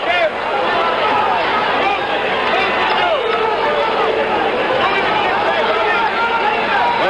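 Crowd in a boxing arena roars steadily at a 1977 Muhammad Ali vs Alfredo Evangelista heavyweight fight in Maryland, a loud, sustained wash of cheering and babble.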